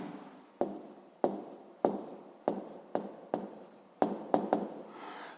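Pen strokes writing numbers by hand on paper during a fifth-grade maths exercise: a steady series of about ten sharp, close scratches and taps in uneven rhythm, each with a brief fading tail, with no voices.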